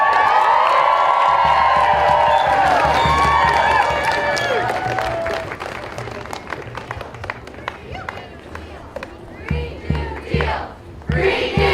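Crowd at an outdoor climate strike rally cheering and clapping, loud shouts over dense applause that thins into scattered claps and whoops, with voices calling out.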